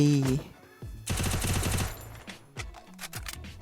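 A UMP submachine gun in a shooter game rattles off a rapid burst of shots, loud and close, with a speaker talking before and between the firing.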